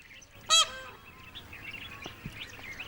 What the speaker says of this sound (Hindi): राष्ट्रीय पक्षी मोर के लिए सरिस्का स्वर्ग सरीखा है।